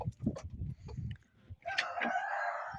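A rooster crows once, loud and close, after a stretch of low farmyard clucking and rustling.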